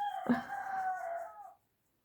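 A rooster crows once, loud and drawn out, cutting off sharply after about a second and a half.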